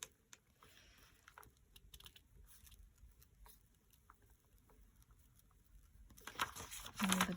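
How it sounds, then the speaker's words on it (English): Glue stick rubbing over paper on a junk-mail envelope flap for a handmade journal pocket, a quiet dry patter of short strokes, louder and denser at the end, with no talking. "let's just glue the front paper as well."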